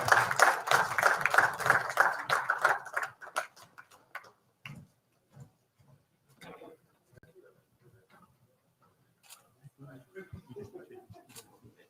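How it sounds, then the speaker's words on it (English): Applause from an audience at a youth inauguration ceremony, a dense patter of clapping for several seconds that thins to scattered claps and fades out, with faint talk afterward. "let's give a round of applause to Mr. Alvin"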